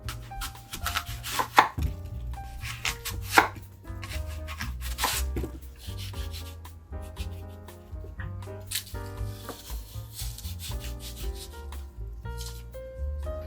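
A knife dicing a peeled, cored apple on a cutting board, quick irregular chops and knocks with some scraping, close up, alongside faint background music.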